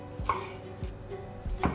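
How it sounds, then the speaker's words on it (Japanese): Knife slicing snap peas diagonally in half on a cutting board, three distinct thuds spaced evenly apart, close up with no talking. "斜め半分に切っていきましょう"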